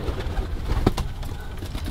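Pigeons coo softly at close range, a low steady murmur with a brief louder burst near the middle.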